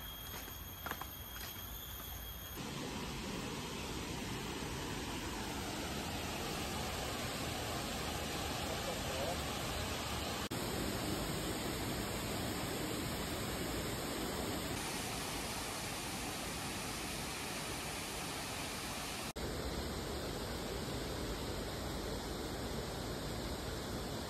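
A waterfall in Ubud, Bali roars as a loud, steady broadband rush of falling water that fills the whole stretch, close and unbroken.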